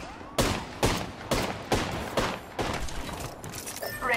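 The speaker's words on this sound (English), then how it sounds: "Getting shot at." Rapid bursts of gunfire in the battle-royale shooter Apex Legends, about six sharp volleys spaced roughly half a second apart, loud and close, trailing into a softer rattling tail with no voices.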